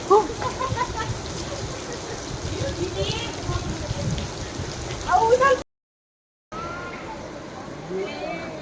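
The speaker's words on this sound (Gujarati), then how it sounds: "એકદમ તળાફળી વરસાદ ચાલુ થઈ ગયો છે" Heavy rain pours steadily near a waterfall in Gir Somnath, a dense even hiss with a short break of silence, while people talk over it.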